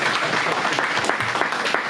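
Applause from a church congregation acclaiming the Lord during an evangelical sermon by a pastor, a dense, steady clatter of many hands clapping at close range throughout.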